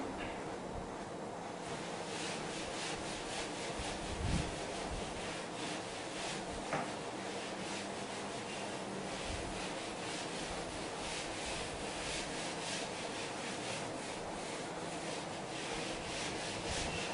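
Writing is rubbed off a classroom board during a biology lecture, a continuous soft scrubbing swish with faint strokes, close and unbroken.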